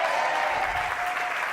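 A church congregation applauds during a Reformation anniversary sermon, a brief burst of dense, continuous clapping at close, even loudness.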